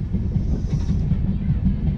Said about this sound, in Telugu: 5 మినిట్స్ లేట్గా స్టార్ట్ అయింది అన్నమాట ట్రైన్